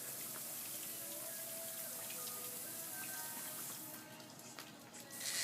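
A garden hose sprays water over plants outdoors with a steady hiss of water, which grows louder and splashier toward the end.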